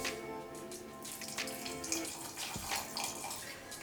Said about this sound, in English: we're gonna add about 2 to 4 tablespoons of whiskey